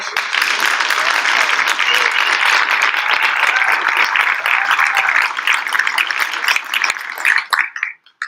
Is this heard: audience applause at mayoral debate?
yes